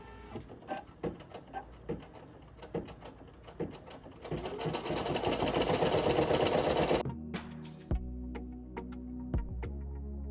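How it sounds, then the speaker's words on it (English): A Brother PE900 embroidery machine stitches with a fast, steady mechanical chatter that builds to a loud continuous run, then stops abruptly, leaving scattered clicks and a low hum. "it's gonna start embroidering"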